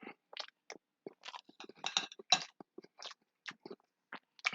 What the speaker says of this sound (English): The sesame seeds provide a nice crunch along with the cornstarch batter coating of the chicken.